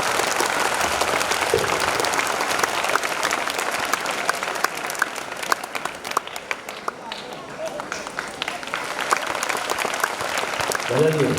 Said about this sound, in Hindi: और एक बार उनका स्वागत ताली बजाकर मेरी ओर से आप करेंगे